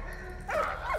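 A dog barks in the World War I video game Valiant Hearts, two short yelping barks close by over a low steady game hum.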